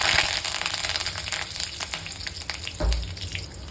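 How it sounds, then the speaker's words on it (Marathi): Curry leaves dropped into hot oil with cumin and garlic, giving a steady, close, loud sizzle and crackle that swells briefly partway through, with no talking. "त्यानंतर मी टाकते आता कढीपत्ता।"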